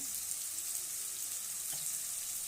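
Steam rushes from a pressure cooker cooking bisi bele bath, a continuous close hiss of venting that holds steady and then cuts off abruptly at the end.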